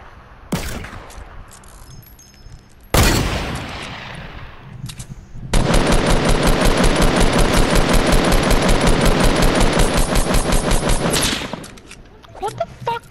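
Loud sustained automatic gunfire in Fortnite: Battle Royale, preceded by a couple of single heavy shots, then a long rapid burst lasting several seconds before cutting off, with a few scattered shots after.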